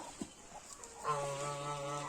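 A rooster crows once nearby, a long, loud, harmonic call that rises and holds for over a second after a few soft clucks.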